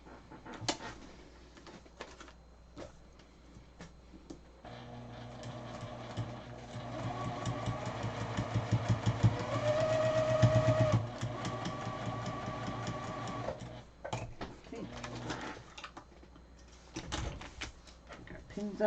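A sewing machine stitches pineapple quilt pieces in a rapid mechanical chatter that builds over several seconds and then stops, with softer handling clicks and rustles before and after.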